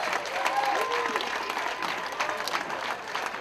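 Crowd applause at dragon boat race results, steady and fairly loud throughout with some voices mixed in.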